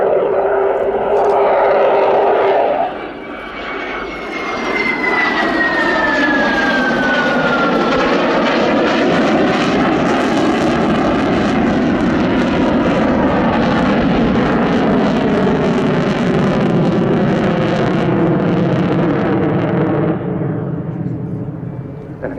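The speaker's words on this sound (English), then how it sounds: "a tribute to the engine performance of the aircraft, the two Lyulka, or now Saturn AL31F turbofans" A Sukhoi Su-27 Flanker jet with twin Saturn AL31F turbofans passes during a sunset air display, its loud rising and falling engine roar sweeping past with a shifting whine over about twenty seconds.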